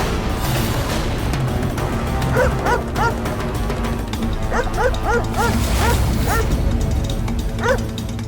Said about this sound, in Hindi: ये कुत्ते की भौंकने की आवाज से डर रहा है